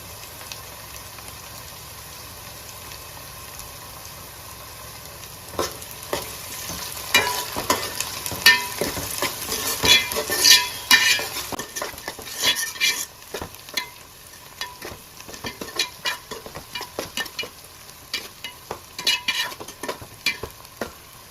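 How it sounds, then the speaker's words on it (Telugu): Curry leaves and chopped spring onions fry in hot oil for a Telugu fish curry (chepala pulusu). A steady low sizzle runs throughout, and from about six seconds in a spoon stirs and scrapes the pan in irregular close strokes. No voices are heard. "కొంచెం కరివేపాకు కూడా వేసుకొని వేయించుకోవాలి అలాగే ఇందాక మనం కట్ చేసుకున్న ఉల్లికాడలు కూడా వేసుకొని బాగా వేయించుకోవాలి"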